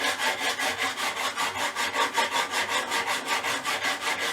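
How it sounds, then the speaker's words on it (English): A diamond file rasps back and forth across guitar frets in a fast, even rhythm of about four strokes per second, close and dry, with no talk. "we're going to use this diamond file again from Stumac"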